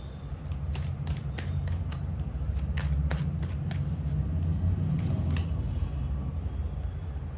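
Tarot cards being shuffled in repeated crisp riffles and flicks, close and steady over a low background hum, with no voices.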